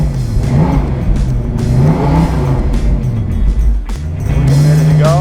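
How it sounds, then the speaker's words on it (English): A 1969 Pontiac Firebird 400 muscle car revs hard and loud up close, its lumpy cammed engine rising and falling in repeated throttle blips with a choppy, uneven idle between pulls. "Hear those cams."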